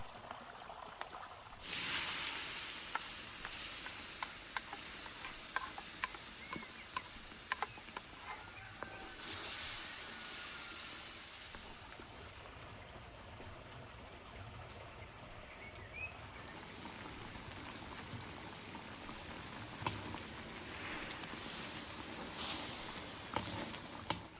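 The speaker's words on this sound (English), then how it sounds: "Let's pour that into the pot and give it a nice roast." Tomato sauce is poured into a pot of beef stew and sizzles, a steady loud hiss and crackle that runs close and continuous for over twenty seconds, with no voices.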